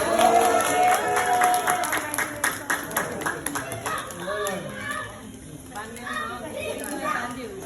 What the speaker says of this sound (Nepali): ताली बजाउँ हजुर हामी